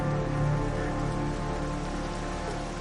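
Rain falls in a steady, dense hiss, constant and fairly close for a few seconds, with nothing else heard over it.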